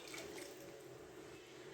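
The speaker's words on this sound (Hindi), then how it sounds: "अब हम यहाँ पर पानी ऐड करेंगे।" Water is poured into a cooking pot of spiced vegetables for pulao, a faint, steady trickling splash with light drips in a quiet kitchen.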